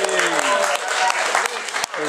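A wrestling show crowd cheers and claps loudly as a wrestler is introduced at a Christmas event in Ilford, a dense burst of applause and shouts with a voice calling out over it.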